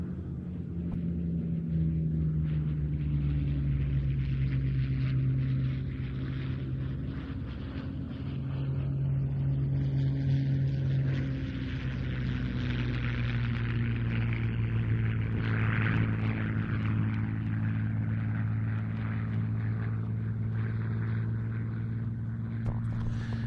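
A P-40F fighter plane with a Packard-built Merlin engine drones steadily at an evening air display at Duxford, a continuous engine rumble that shifts in pitch as the aircraft banks and passes at moderate distance.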